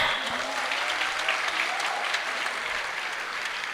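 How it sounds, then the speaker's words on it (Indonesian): A crowd at a student motivational talk bursts into enthusiastic applause, loud and sustained, with dense overlapping clapping that holds steady throughout and a few faint voices underneath. "Tepuk tangan yang meriah teman-teman."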